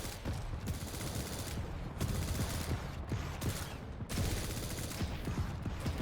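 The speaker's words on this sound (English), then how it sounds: "Just holding off these choke points with a nail gun, doing plenty of work with that weapon." A nail gun fires in the arena shooter Quake Champions during a competitive qualifier match, with dense, rapid bursts of shots and game effects that briefly dip before resuming without pause.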